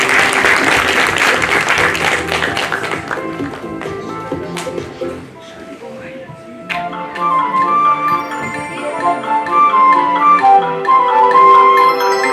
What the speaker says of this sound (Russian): Давайте поддержим и подарим ей свои бурные аплодисменты.